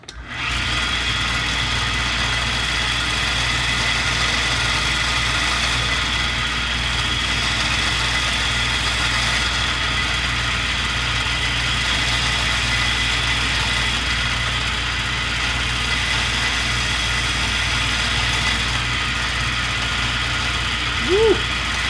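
A belt grinder fitted with a leather belt strips the burr from a knife edge, giving a steady close motor drone with a constant whine that holds unbroken for the whole stretch.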